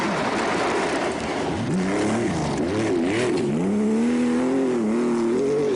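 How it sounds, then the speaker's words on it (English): Raucous Porsche rally car engine at the 1985 Acropolis Rally, a loud continuous drone that rises and falls in pitch as it revs and shifts, with no talking. "is still there in his raucous Porsche"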